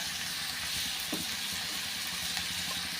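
Onion, curry leaves and tomato sizzle steadily while being sautéed in a pan for a spiced soybean dish, a close, even hiss with little variation.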